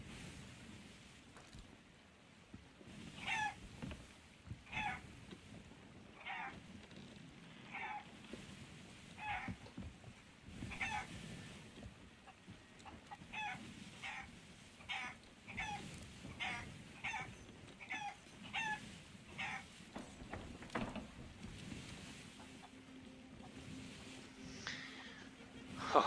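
Chickens on a ship in the Sea of Thieves video game cluck in short, repeated bursts, fairly close and quiet, over a soft ocean and wind backdrop.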